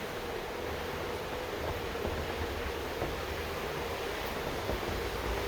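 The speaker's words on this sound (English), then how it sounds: "It just has a very nice, relaxing feel to it when listening to water flow." Water flowing past a river trail makes a steady, broad rushing wash, even and continuous throughout at moderate level with no talk.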